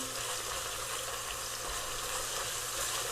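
Ginger garlic paste sizzling in a hot pan for chana chaat, a dense continuous hiss and crackle at close range with no voices.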